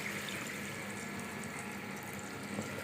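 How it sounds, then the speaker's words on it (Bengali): Gravy liquid poured steadily into a pan for chital fish curry, a continuous close watery gush and splash heard alone without pause. "তো এখন ঝোল দিয়ে দিব।"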